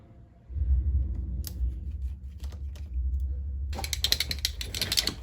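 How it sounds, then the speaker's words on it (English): Screws being backed out of the bracket over the CD mechanism on a 2003 to 2007 Honda Accord radio, with a low hum, then close ratcheting clicks and scraping of a screwdriver that grow busier toward the end. "So let's take those screws off."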